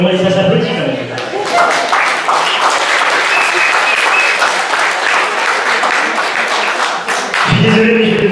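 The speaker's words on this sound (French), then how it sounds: "Et on va laisser ça s'applaudir quand même." Loud, sustained audience applause at an award ceremony during the Paris PAM 2016 event, dense clapping filling the room, with a voice speaking over the start and end.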